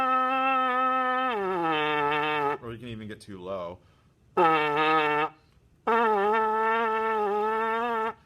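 Trumpet played with a slack, saggy embouchure, giving loud buzzy sustained tones with wobbly, unstable pitch in three separate blasts, with a short spoken phrase between them.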